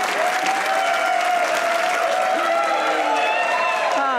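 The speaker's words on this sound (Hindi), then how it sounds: "तालियां।" Studio audience applause on a Pakistani comedy talk show, a steady, dense wash of clapping filling the whole stretch at close, even loudness, with some voices mixed in underneath.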